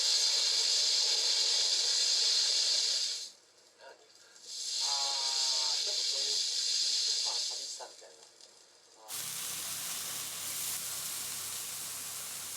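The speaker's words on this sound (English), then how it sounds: "It's the sound of a local food called bota being prepared." Bota, a local Tokyo food, sizzles on an iron frying plate with a spatula, a steady bright hiss that comes in two long bursts separated by a short lull, with softer scraping and a different, rougher frying noise at the end.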